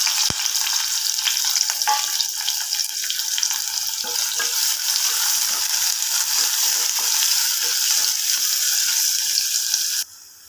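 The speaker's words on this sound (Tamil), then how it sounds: "வெங்காயம் நல்லா வதங்கிருச்சு" Onions and green chillies sautéing in oil in a pan for tomato kurma, a close, loud, continuous sizzle with scattered crackles and stirring scrapes, cutting off abruptly near the end.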